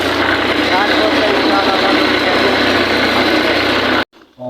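A tractor engine runs in a loud, steady, rumbling drone close by for about four seconds, mixed with voices, before cutting off abruptly.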